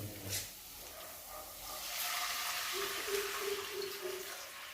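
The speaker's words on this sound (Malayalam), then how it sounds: "ഇനി ഇതിനകത്തേക്ക് നമുക്ക് ആവശ്യത്തിന് വെള്ളം ഒഴിച്ചു കൊടുക്കണം" Quiet at first, then water starts pouring and keeps up a soft, steady splashing hiss into a pot for a couple of seconds.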